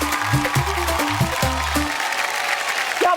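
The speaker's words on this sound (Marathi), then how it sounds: "एकदा जोरदार टाळ्या होऊन जाऊ देत" Applause breaks out from a TV game show studio audience, a short burst of clapping over background music with a voice near the end.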